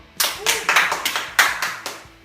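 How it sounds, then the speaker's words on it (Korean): A small group claps at the end of a full-body home workout session, a quick burst of about eight sharp, uneven hand claps close by that fades out within two seconds. "박수!"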